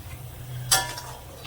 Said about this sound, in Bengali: এবার আমি এটা দিয়ে দেবো জল এবার ঝোলটাকে আমি সুন্দর করে ফুটিয়ে নেবো